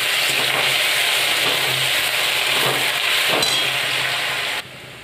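Salted potato slices fry in hot oil in a pan with a dusting of turmeric, giving a steady, close, loud sizzle that drops away sharply near the end.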